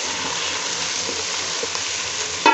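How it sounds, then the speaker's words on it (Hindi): Karela, sliced bitter gourd, fries in hot oil as a steady, dense sizzle close by, with a brief clatter right at the end. "करेलों को डाल दिया है और मैं अब इनको फ्राई कर रही हूँ।"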